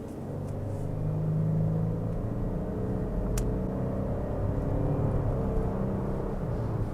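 Lexus LX 700h turning through a U-turn, a low steady engine and road rumble heard from inside the cabin, moderate and even with one brief faint click.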